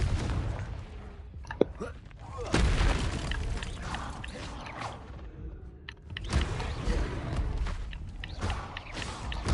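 Confringo spell blasts in Hogwarts Legacy, a rapid barrage of booming impacts and whooshes piling up continuously, with several sharper bursts standing out amid the dense combat noise.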